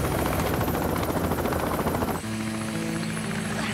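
Helicopter rotor and engine noise, a loud, steady, rapid thumping that runs throughout, shifting partway into a smoother whine with tonal engine hum.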